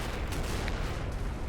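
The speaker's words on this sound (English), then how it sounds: "The ridge was obviously going to get shelled on the first turn" Continuous rumbling barrage of artillery shelling on a ridge in the wargame Combat Mission Shock Force 2, a dense, steady low roar of distant impacts with no distinct single blasts.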